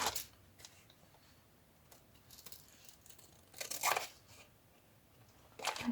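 Scissors cut paper for an envelope folio with a few quiet, brief, crisp snips and crinkles, spaced irregularly and close by.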